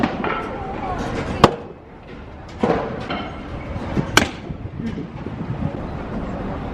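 A baseball bat strikes pitched balls in a Tokyo street batting cage, three sharp cracks a second or two apart, with people talking and wind buffeting the microphone.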